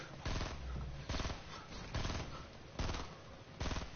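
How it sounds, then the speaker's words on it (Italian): Rapid bursts of automatic gunfire in Fortnite, several loud volleys in quick succession with brief gaps between them. "Occhio, sto sparando."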